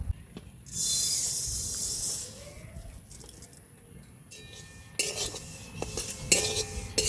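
Sesame seeds dry-roast in a wok (kadai), giving a soft hiss, clinks and scraping stirs of a utensil against the metal that swell and fade in short bursts.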